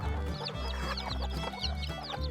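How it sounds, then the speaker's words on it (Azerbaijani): A plump hen with a bright red comb clucks in a yard, a run of repeated clucks and chatter over a steady low drone, close and fairly loud with no talking. "Həyətdə də bir dənə qəşəng, kök, pipiyi qıpqırmızı bir toyuq var."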